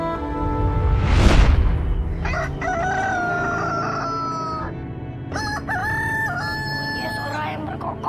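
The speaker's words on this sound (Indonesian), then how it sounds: "Bunyi suara yang berkokok" A rooster crows nearby in a loud, drawn-out call, followed by further crowing and clucking from the fowl, with a faint background murmur and no clear talk.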